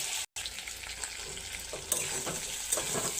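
Poppy seed paste sizzles and fries in a pan while being stirred for a homestyle Bengali aloo posto, a steady crackling hiss with scraping spoon strokes, close and continuous.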